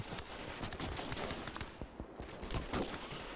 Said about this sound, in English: I love the sound of those bullets hitting the brick.